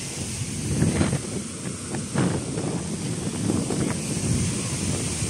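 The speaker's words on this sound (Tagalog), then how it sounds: "Lakas ng alon na." Strong sea waves surging onto a beach in stormy, typhoon weather, with gusting wind buffeting the microphone; a steady, loud roar of surf and wind that swells in rolling pulses throughout, with no speech.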